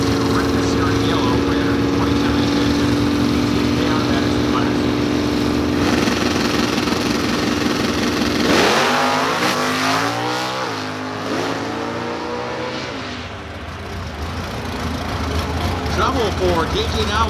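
A loud supercharged 2002 fourth-generation Camaro drag race car runs at the strip, its engine droning steadily and then sweeping through rising and falling revs, with an announcer talking over it.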